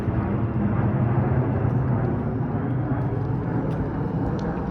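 A low, steady roar of an airplane flying overhead above Finch Avenue West in North York, Toronto, a broad rumble that holds evenly throughout with no talk over it.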